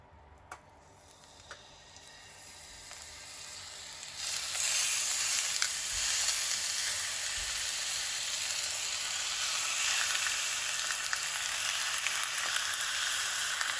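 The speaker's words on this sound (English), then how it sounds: "I'm going to cook these for a couple minutes on each side so they get nice and brown" Pieces of chicken frying in a moderate amount of oil in a pan, quiet at first, then a dense, steady sizzle that rises suddenly and holds evenly close by, with occasional small ticks and no talking.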